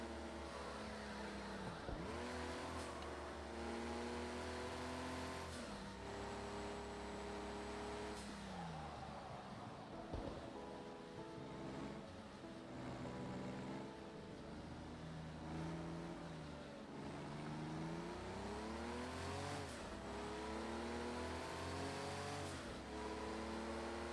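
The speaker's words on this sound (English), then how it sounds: "I can redline it to fuck before I change gears" A race car engine in Project Cars 2 revs hard to the redline again and again, pitch sweeping up and dropping at each gear change in a repeating pattern, continuous and fairly quiet, no voices.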